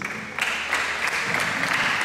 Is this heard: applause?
yes